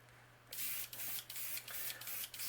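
Crackle medium paint sprayed from an airbrush onto a fishing crankbait in a spray booth with an exhaust fan, starting after a quiet half second and continuing in short, close, hissing bursts with brief breaks.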